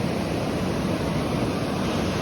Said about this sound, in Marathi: नदी वाहती